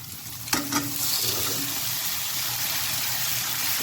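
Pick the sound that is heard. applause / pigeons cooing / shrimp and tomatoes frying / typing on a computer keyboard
shrimp and tomatoes frying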